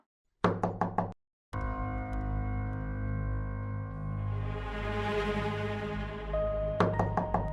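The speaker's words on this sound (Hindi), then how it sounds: "ईमान, दरवाजा खोलो।" Someone knocks on a door in a drama scene: a quick run of four sharp raps, then a sustained musical swell, then another burst of rapid knocking near the end.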